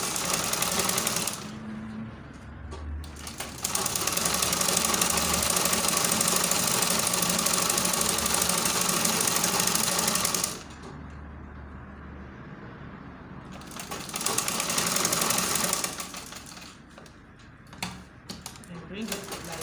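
A sewing machine stitches an Ankara shirt collar, running in two long, fast, loud mechanical bursts with a quieter pause between them and a shorter run near the end.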